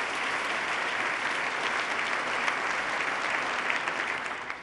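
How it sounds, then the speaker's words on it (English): Steady audience applause fills a large hall at a governor's State of the State address, dense even clapping sustained at full strength for several seconds before easing slightly at the end. "Let's give him a round of applause."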